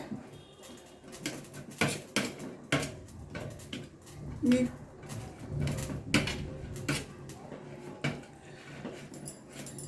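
Potato and onion being mashed with a metal spatula in a pan, a series of irregular scraping knocks and clanks against the pan, close and moderately loud.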